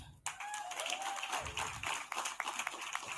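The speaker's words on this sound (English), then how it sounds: "A round of applause for her, please." Applause at a tech conference: a crowd claps in an uneven patter that swells after a brief quiet start, with scattered louder claps and faint vocal cheers mixed in.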